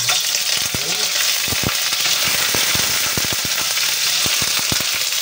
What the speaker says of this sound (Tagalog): Ipiprito po muna natin yung ating tilapia para mas masarap.